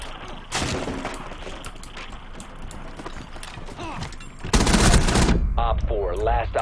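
Gunfire in a Rainbow Six Siege match, dense rapid bursts running for several seconds with a louder, closer volley near the end, while other game effects and muffled voices sound through the mix.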